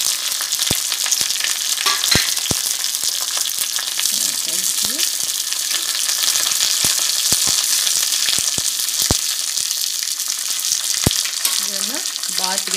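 Curry leaves and dried red chillies hit hot oil with mustard seeds for a tempering, giving a loud, continuous sizzle and crackle with occasional sharp pops and stirring sounds, with no talk.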